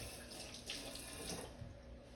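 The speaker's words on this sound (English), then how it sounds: "Rinse my hands off." Hands are rinsed under a running kitchen tap while baking pecan pie bars, heard as a faint, steady stream of water for a couple of seconds.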